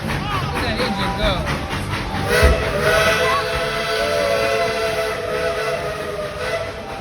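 A steam train at a tourist railroad rumbles and chuffs nearby with a whistle tone rising in, loud and continuous, while people talk over it.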